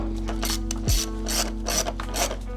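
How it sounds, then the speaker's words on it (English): Ratchet tightening a 10 mm bolt on the throttle body of a 5th-generation Toyota 4Runner, several quick rapid clicking bursts close up, loud and distinct with no talk. "Let's go ahead and tighten that up."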